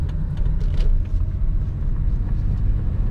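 Engine of a Lexus with a stick shift misfiring badly in second gear, a steady low rumble with uneven stumbling pulses, close and loud throughout.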